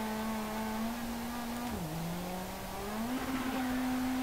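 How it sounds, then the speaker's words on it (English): Rally car engine in the WRC 8 video game on Corsica tarmac, holding a steady drone that dips and then climbs back as it revs out while the front loses traction, loud and continuous. "the car just suddenly starts revving out because it's losing traction on the front end"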